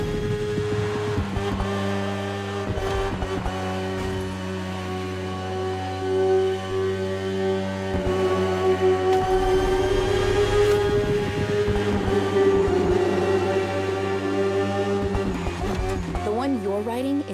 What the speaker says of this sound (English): The one you're riding is the S1000RR. It's what we call a superbike.